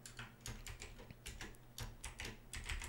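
Fingers tap quickly on a computer keyboard, producing quiet, close clicks in uneven bursts over a faint low hum.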